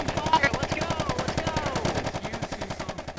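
Automatic gunfire in a VR roleplay video game, a rapid, even stream of shots for about three seconds, loud and close with a faint voice underneath.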